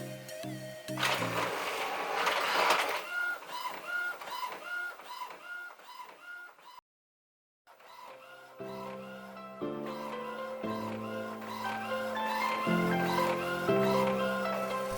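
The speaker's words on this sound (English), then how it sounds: "Just a final check on Print Preview, then hit Print." An older Epson inkjet printer printing on canvas: rhythmic mechanical whirring and tonal motor passes as the print head shuttles back and forth, a brief silent pause midway, then continued carriage movement and feed sounds, close and clear.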